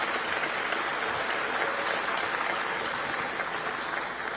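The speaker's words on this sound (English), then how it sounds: "All these people clapping are just corrupt." Dense, sustained applause from a large audience fills the whole stretch at an even level.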